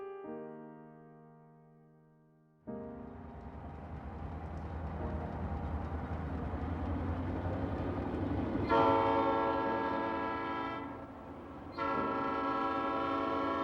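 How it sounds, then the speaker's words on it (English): Model trains rumble past with a steady mechanical clatter, one trailing a 40-foot gondola car, and a horn sounds at the start and again in two loud blasts near the end. "a few more trains glide by with a trailing 40-foot gondola"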